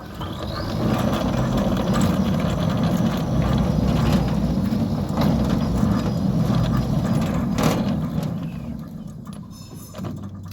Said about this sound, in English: You'll see when we operate the gate motor, there's no vibration, hopping